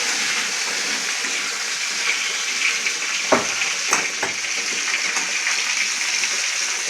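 Green banana and potatoes frying in oil give off a steady, even hiss of sizzling that runs throughout, broken by a few brief clinks or stirs near the middle, with no talking.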